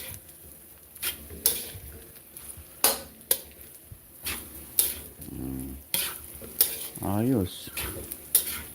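A utensil stirs and mixes pork sisig in a hot pan, giving repeated metallic scrapes and clanks in an uneven rhythm over a soft sizzle, with a brief spoken word near the start.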